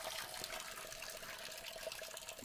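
Spring water from a forest source pours in a steady, soft trickle into a plastic PET bottle, faint and continuous with no voices.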